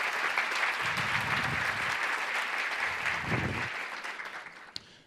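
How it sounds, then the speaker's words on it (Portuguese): An audience breaks into steady, dense applause welcoming a visiting doctor to the stage for a lecture, the clapping filling the room evenly for several seconds before tapering slightly at the end. "Vamos então receber com uma salva de palmas o Dr. John Lewis"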